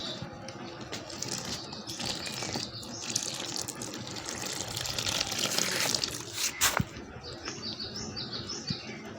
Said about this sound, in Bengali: এবার জল দিয়ে দেবো এর মধ্যে।